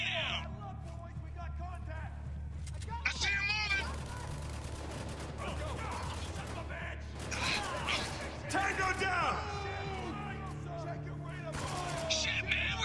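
Heavy gunfire in the video game Spec Ops: The Line, bursts of shots and rattling fire mixed with shouting game voices and other action sounds at moderate loudness.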